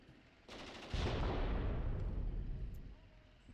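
Machine gun fire at trucks in the Graviteam Tactics video game, heard as a sustained roaring stream of rapid shots that starts abruptly, stays loud and dense for a few seconds, then tapers off into a rumble.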